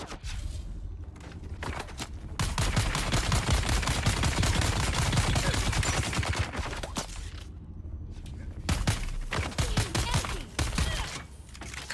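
Rapid bursts of gunfire from the player's weapon in Dune: Awakening, loud and dense through most of the stretch with a couple of brief pauses; a voice talks over part of it.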